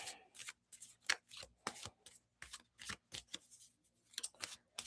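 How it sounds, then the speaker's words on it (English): Tarot cards are shuffled close up in quick, crisp riffling bursts, a dozen or so short papery flutters separated by brief quiet gaps. "So I'm going to pull the cards for this week."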